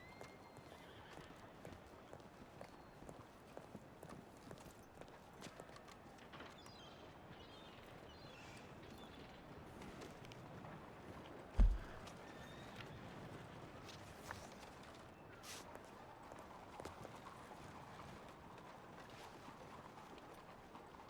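Horse hooves clip-clop steadily in the Red Dead roleplay game, with many horses moving about a busy town, occasional whinnies, and one sharp louder knock partway through, all at a moderate, even level.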